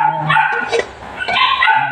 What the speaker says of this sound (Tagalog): Maingay yung aso sa kapitbahay.